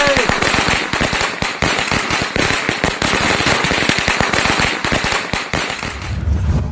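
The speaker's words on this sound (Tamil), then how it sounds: "என்ன சத்தம்? யோ மாமா, நீ எங்க? பட்டாசு வச்சாச்சு." Firecrackers burst in a dense, rapid string of sharp pops, loud and continuous, tapering into a low rumble at the end.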